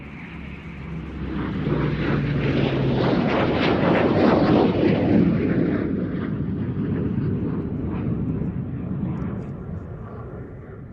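An OV-10 Bronco twin-propeller aircraft makes a low approach, its engine roar swelling loud as it passes close, then slowly fading.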